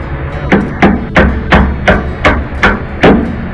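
Seven or eight sharp hammer taps land in an even, unhurried rhythm, close and fairly loud, with no one speaking, tapping a panhard bar into place on a 1996 Firebird.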